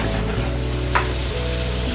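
A pan of duck fillet is deglazed with cooked wine, giving a steady, close sizzle and frying hiss throughout, with a brief louder spit near the middle.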